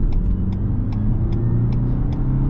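A 2021 Renault Captur car accelerating on a test drive, with a steady, loud engine drone and road noise and faint periodic ticks, heard from inside the cabin.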